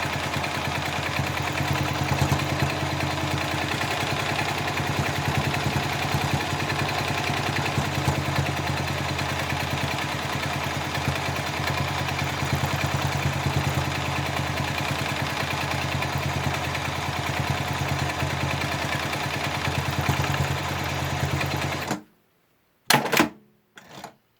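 A sewing machine stitches a leafy quilting border into a quilt with a steady, rapid mechanical whirr and clatter that runs for about twenty seconds, then stops abruptly, followed by a couple of brief bursts.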